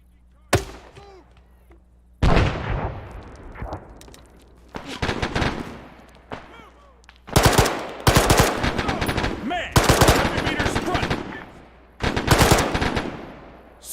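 Bursts of machine gun covering fire in a military combat video game set in Chernarus, loud repeated volleys of rapid shots separated by short pauses, with some radio-style talk in the background.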